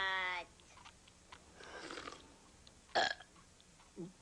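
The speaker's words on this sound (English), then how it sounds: "We're having a burp contest, Mom." Cartoon burps during a family burping contest at home, a long harmonic belch at the start followed by shorter gurgling burps and a low croak near the end, loud and close with no talk.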